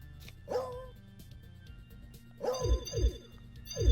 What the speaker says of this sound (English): They added a dog noise and a growl.